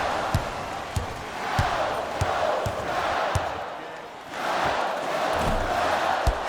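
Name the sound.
crowd booing in NBA Live 22 video game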